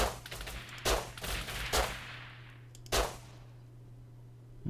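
Gunfire in the survival game Rust: four sharp, separate shots spread across a few seconds, reasonably close, each trailing off into a steady low hum of background ambience.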